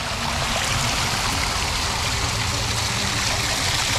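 Water trickling and overflowing through an RC crawler park pool, a steady close rushing gurgle that runs evenly throughout with no voices.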